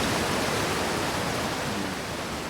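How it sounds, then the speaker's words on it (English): Loud, steady rush of a waterfall in the video game Outer Wilds, heard on Timber Hearth as a dense broadband roar that holds constant throughout with no voices. "waterfalls are loud."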